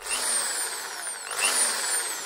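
Stanley 600W 13mm hammer drill running alone with a steady high-pitched electric motor whine, the pitch dipping and then climbing as the speed is turned up.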